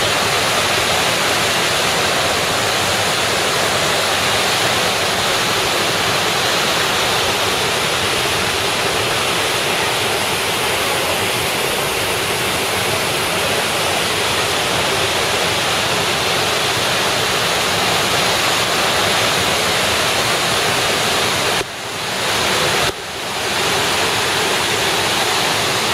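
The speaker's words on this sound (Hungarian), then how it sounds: "szép nagy vízesés." A large waterfall in Honduras roars close by in a constant, loud, broadband rush of falling water that stays steady throughout, with no voices.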